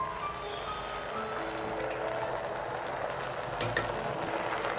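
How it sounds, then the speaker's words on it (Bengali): Cornflour slurry is poured into a pan of frying cauliflower Manchurian, a steady soft sizzle and bubbling with faint stirring scrapes, quiet and close, with no talking. "কর্নফ্লাওয়ারটা জলে গুলেছিলাম, এবার সেটা এর মধ্যে ঢেলে দিলাম।"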